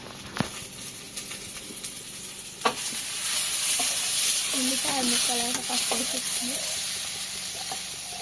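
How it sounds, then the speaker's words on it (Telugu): Food sizzles and fries steadily in a pan before green chillies go in, a continuous hiss with a couple of sharp clanks near the start and people talking quietly over it. "ఇవైతే వేగిపోయినాయి పచ్చిమిర్చి వేసేస్తున్నాము"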